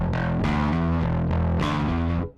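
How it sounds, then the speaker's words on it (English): Bass guitar played through a Scrambler bass overdrive pedal with the drive fully up, giving a thick, fuzzy, heavily distorted tone as a few sustained notes ring out one after another before fading. "So that's as much distortion as I'm going to get with the pedal set the way it is."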